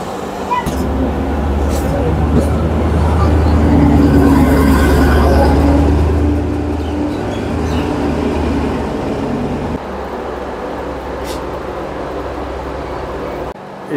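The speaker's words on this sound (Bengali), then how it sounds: "এই ট্রেনটা দেখছি ব্যাক করে আবার পেছনে যাচ্ছে" A local train reverses out of New Mal Junction with a steady, loud low rumble and rolling drone that hold for the whole stretch. Quieter passing noise sits on top, and the rumble eases slightly near the end.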